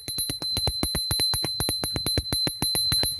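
A bicycle bell rung rapidly and continuously, about twenty sharp bright dings in a steady stream, loud and close, used to call a dog back during a ride.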